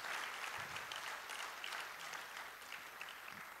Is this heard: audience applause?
yes